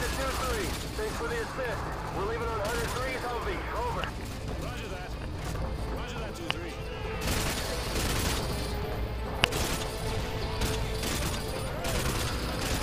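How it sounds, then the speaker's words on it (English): Gunfire in the video game Call of Duty: Modern Warfare 2 during an indoor room-to-room mission: repeated bursts of shots, some single sharp cracks, mixed with game sounds and someone talking over them. "You just carry on shooting wherever they are."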